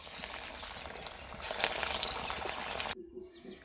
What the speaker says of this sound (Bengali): আবারও বাকিগুলো ঠিক একই রকমভাবে ভেজে নেব